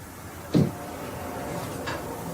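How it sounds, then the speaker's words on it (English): A door is opened with a single dull, close thump followed by a faint click a little later, heard against quiet background hiss. "You open this door."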